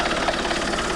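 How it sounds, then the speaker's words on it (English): Alfa Romeo 159 1.9 JTDM diesel engine idling with a newly installed turbo, a steady, even low hum with a faint whir, close and continuous with no talk. "I'm happy with the noise of that though. It's really quiet as well for a diesel."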